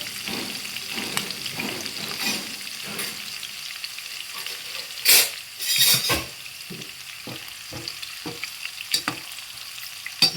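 Cinnamon, cardamom and cashews sizzle in hot oil for a sabudana rice pulao, with steady frying crackle, repeated spoon stirring scrapes and a few louder clatters of utensils against the pan.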